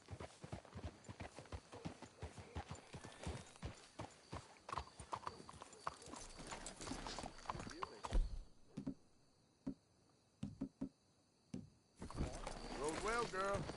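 Horses walk on a hard surface in the Western video game Red Dead Redemption 2, a dense, close clip-clop of hooves that thins into a few scattered steps, with game character voices talking.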